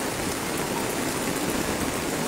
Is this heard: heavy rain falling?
yes